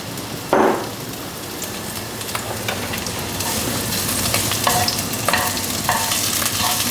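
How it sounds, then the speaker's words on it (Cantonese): Ginger and scallion stir-frying over low heat for a braised tofu claypot dish, with a loud, close crackling sizzle and sharp utensil scrapes against the wok that grow busier toward the end. "其實細火爆香佢，因為我要攞嗰啲薑葱嘅香味嘅。"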